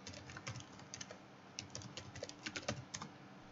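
Fingers type an email address on a computer keyboard in a steady run of close, crisp key clicks with uneven rhythm, alone with no talking.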